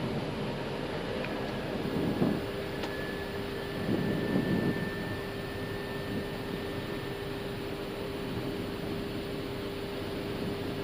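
Airbus airliner on final approach to Vienna's runway 11 over the city, a steady broad cockpit hum with a faint whine throughout, plus two brief louder swells.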